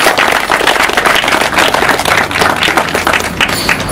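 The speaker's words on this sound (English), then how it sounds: "I think she deserves a big round of applause." An audience gives a loud, dense round of applause at the opening of a new surgery building, sustained at an even level for the whole stretch with no pause.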